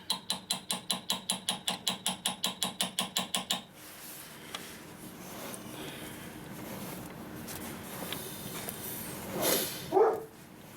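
A John Deere two-cylinder water pump impeller is rattled by hand. About sixteen rapid, evenly spaced mechanical clicks come first, then quieter handling noise and a couple of louder knocks near the end.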